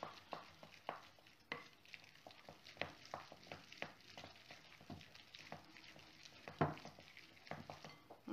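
Egg is worked into thick choux pastry dough for mini eclairs with a spoon, giving soft, quiet, irregular scrapes and wet slaps against the bowl.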